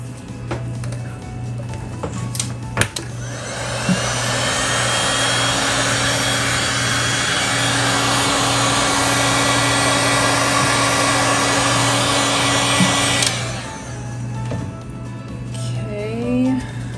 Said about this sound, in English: The heat gun.